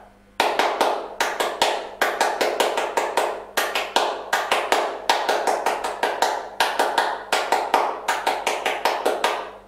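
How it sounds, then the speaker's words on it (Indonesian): A group of students performs the Pramuka scout clap three times in a row. Each round is a crisp, loud sequence of fast claps and pauses, with the rhythmic pattern repeating clearly and in unison. "3 kali tepuk pramuka"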